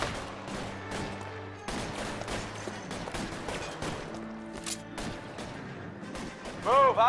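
Video game gunfire in L.A. Noire rings out in repeated bursts of sharp shots with a mid-distance, echoing quality, and a voice talks over part of it.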